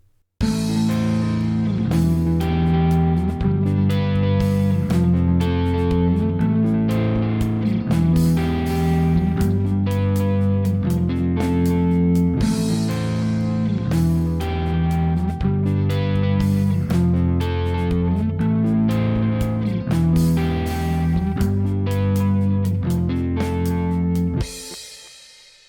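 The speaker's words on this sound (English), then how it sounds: "Let's listen to a simple chord progression and observe the difference when using pre-delay versus post-delay." Guitar chord progression played through delay effects, comparing pre-delay and post-delay settings; steady strummed chords repeat in a rhythmic pattern with echoing repeats, continuous and fairly loud for about 25 seconds, with no talking.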